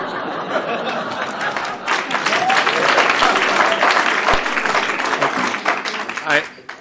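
Audience applause at a Coeur d'Alene school board candidate forum, a steady wash of clapping from a crowd with some chatter and light laughter mixed in, swelling through the middle and tapering near the end.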